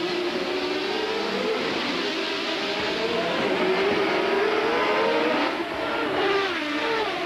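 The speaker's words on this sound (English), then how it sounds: "Let's just listen to the car's engine, the gearbox, work with the drivers." A 1991 CART Indy race car engine roars steadily and close on the Surfers Paradise street circuit, its pitch rising and falling as gears shift, echoing off buildings, with no talking.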